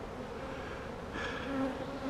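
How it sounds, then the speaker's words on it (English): Honeybees buzz in a dense, steady drone as they are shaken from a frame into a nuc hive, the hum swelling briefly partway through, close and fairly quiet. "Let's shake the bees over here."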